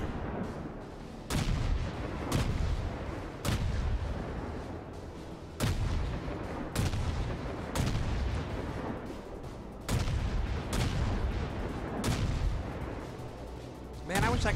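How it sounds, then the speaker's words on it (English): Naval guns boom repeatedly in World of Warships, sharp heavy blasts every second or two with rumbling decay between them, loud and close. "there's other people shooting at him already."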